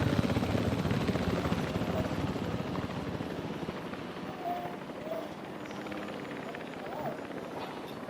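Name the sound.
helicopter flying in a video game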